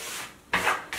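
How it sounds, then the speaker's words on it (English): Short rasping strokes of sandpaper rubbing the edges of painted wood on a buffet, two or three quick scrapes close by with brief pauses between. "sanding off some of the edges to expose the"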